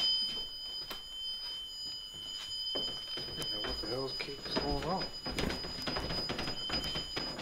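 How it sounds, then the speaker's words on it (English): During a paranormal investigation, an alarm device sounds a steady, continuous high electronic tone, while people talk and react nearby over it. "Can you move away from my alarm?"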